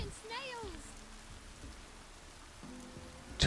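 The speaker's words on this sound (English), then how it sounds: "Looks like rain." Steady rain falls across an outdoor scene in The Witcher 3 video game, a soft even hiss running throughout at low level, with a faint tonal chirp near the start and a brief bump at the end.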